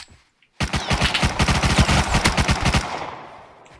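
A loud, close automatic burst of gunfire from the survival video game Rust rattles off as a rapid string of about twenty shots over two seconds, then fades out, with no voices.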